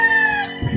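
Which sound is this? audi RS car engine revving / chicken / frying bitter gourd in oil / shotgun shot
chicken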